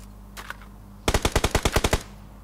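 Video game gunfire: after a couple of faint shots, a loud close burst of about ten rapid automatic rounds in an even rhythm, then quiet background, with no speech.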